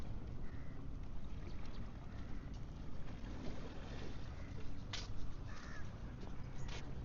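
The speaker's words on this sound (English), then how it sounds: "Hey, some wind there, a little bit." Wind on a seashore at a park in Phuket, Thailand, blowing as a steady broad rush into the microphone, with faint scattered sounds over it.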